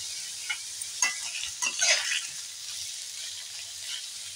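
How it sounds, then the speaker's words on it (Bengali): Hopa, a salted leafy green, being stirred and fried in a pan, giving a soft steady sizzle with several scraping stirs clustered in the middle, moderately close and fairly quiet, with no talking. "এইভাবে নাড়াচাড়া করে হোঁপা আমি ভেজে নেব"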